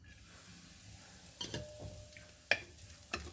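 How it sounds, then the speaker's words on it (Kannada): Dry coconut roasting in ghee in a pan, a soft steady sizzle broken by a few sharp scrapes and clinks of stirring, close and fairly quiet. "ನಂತರ ಒಣ ಕೊಬ್ಬರಿನ ಹುರ್ಕೊಳ್ಳೋಣ."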